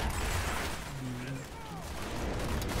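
Gunfire rattles on in Call of Duty: Black Ops during a campaign mission, a steady, muffled wash of shots and explosions held at a moderate level with no clear pauses.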